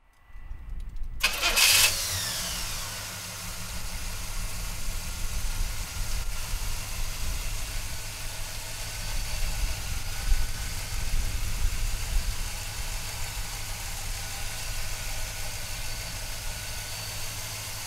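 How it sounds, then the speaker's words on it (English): A 1968 Pontiac GTO convertible cranks briefly and fires up, then settles into a loud, steady, rumbling idle with deep low-end throb that continues unbroken for well over ten seconds. "So come on up and we'll fire this GTO up."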